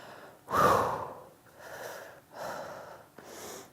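Deep breaths during a yoga stretch: a sharp, loud nasal inhale followed by three softer, slower breath cycles, each a breathy whoosh spaced about a second apart, close to the microphone and with no talking.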